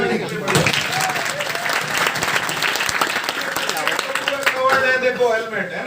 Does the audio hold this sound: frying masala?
no